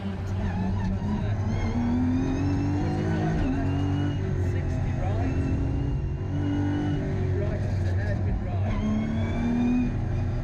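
A Porsche rally car races through the infield section of the Cadwell Park circuit during a circuit rally round, its engine droning loud and steady with rising and falling revs, a commentator talking over it throughout.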